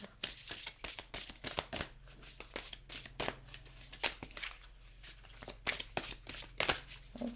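Tarot or oracle cards are shuffled by hand in quick, crisp riffling bursts that repeat close up throughout, with no speech over them.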